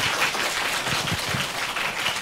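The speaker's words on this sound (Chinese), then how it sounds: "我哋多一次俾啲掌声" Applause from a lecture audience after a talk on modernism and everyday Hong Kong architecture, a steady dense patter of clapping holding at an even level throughout.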